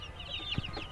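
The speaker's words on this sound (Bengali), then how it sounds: "এই যে এইটা হচ্ছে কিন্তু টাইগার মুরগির মোরগ" Tiger chicken rooster clucking in a shaded coop, a short low cluck amid faint bird chirps nearby.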